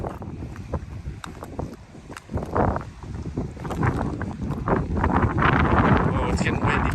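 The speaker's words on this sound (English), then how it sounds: "Oh, it's getting windy." Wind gusts at the edge of a lava cliff in Hawaii Volcanoes National Park, a rough rumbling buffeting that builds steadily louder toward the end, with no talking.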